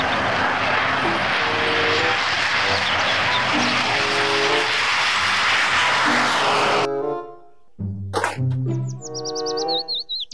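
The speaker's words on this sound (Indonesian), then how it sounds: "Pesawat jet" Toy fighter jet sound effect playing a loud, steady jet-engine roar with tonal hums for about seven seconds, then cutting off abruptly, followed by a few brief electronic chirps and beeps.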